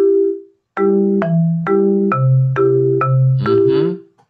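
Bass and guitar parts from a grade 4 music lesson play back through lesson software: a clear, steady run of about eight sustained pitched notes, with the low bass line moving under the guitar, loud and close with no talking.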